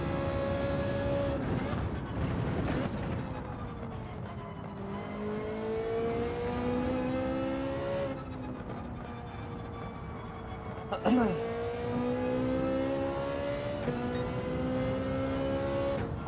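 Sustained race car engine from Gran Turismo 7, winding up through the gears with brief drops at shifts and a sharp blip near the end, loud and steady, with a voice faintly present under it.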